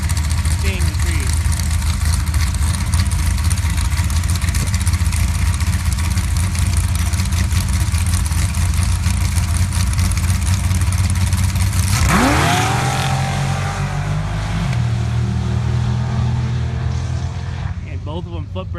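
Jeep engines at an off-road race at Soboba, a continuous loud rumbling drone with revving and a drop in pitch near the end, while a commentator talks over it.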